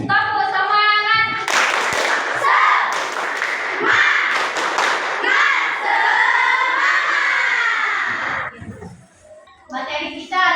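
A classroom of students performs a rhythmic spirit clap, bursts of sharp patterned claps interleaved with chanting children's voices and a teacher speaking, loud and close throughout.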